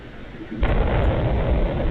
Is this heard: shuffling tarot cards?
no